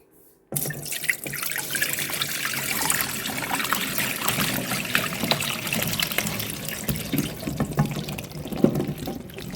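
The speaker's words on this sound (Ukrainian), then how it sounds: "Готуємо банки, миємо вишні." Cherries are washed under a running kitchen tap, a steady close rush and splatter of water that starts abruptly after a brief silence and continues evenly throughout.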